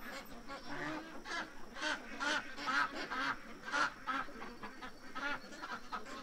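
Ducks in a low backyard pen quack and honk in repeated overlapping bursts, a steady flock chatter at moderate distance with outdoor background noise.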